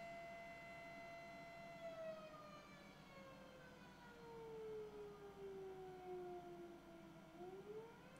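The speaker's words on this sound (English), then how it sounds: "like, alarm, like the siren outside" A distant siren wails with a slow falling then rising pitch, faint and steady over low background noise, with no one speaking.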